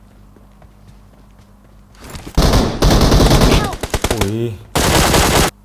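Rapid automatic gunfire bursts in a shooting video game, loud and close, coming in several dense volleys with short gaps, with a brief exclamation from a player near the start.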